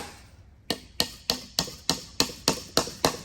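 A hammer striking a hammer set to drive it into a chimney fireplace cap damper, nine sharp metallic taps at an even, steady rhythm, close and clear with no talk.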